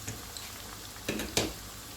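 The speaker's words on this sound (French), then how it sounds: "Donc là, à feu moyen, je vais les dorer" Chicken pieces browning in a pan over medium heat, a quiet, steady sizzle with a few soft crackles and bursts, no talk.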